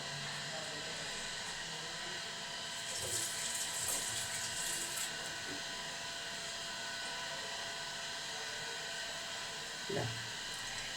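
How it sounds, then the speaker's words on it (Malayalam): Water is poured into a pressure cooker pot while cooking curry, a faint brief splashing rush in the middle over a quiet background hum, with a small knock near the end. "ഇനി ഇതിനകത്തേക്ക് കുറച്ച് വെള്ളം ഒഴിച്ചു കൊടുക്കാം"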